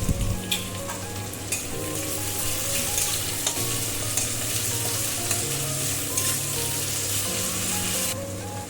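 Chopped tomatoes with salt sizzling in a hot pan for a Bengali chicken curry, a loud steady crackling fry with scraping stir strokes throughout, close up with no talk.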